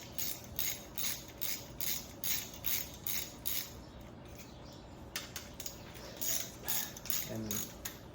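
A ratchet running down the rocker shaft bolts on a 1965 Ford Thunderbird engine, quick clicking bursts repeating in an even rhythm, close and clear with short pauses between runs.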